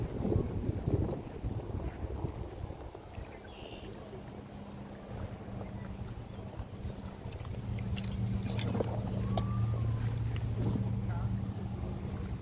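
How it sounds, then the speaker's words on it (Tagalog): Wind rushes and buffets the microphone at a lakeside at Lake Guelph, a continuous low roar with water lapping and faint distant sounds. "Mahangin dito banda."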